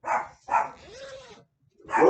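A dog barks several times in close succession, loud and near, with a whining, rising-falling yelp between the barks.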